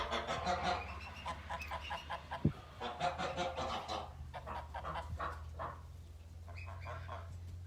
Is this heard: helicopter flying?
no